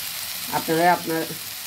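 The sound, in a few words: green chillies frying in a pan for tengra fish curry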